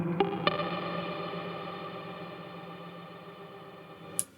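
A sustained electric guitar tone rings out through a Chase Bliss MOOD reverb pedal, two picked notes blooming into a long, washing tail that slowly fades, with a brief bright click at the end.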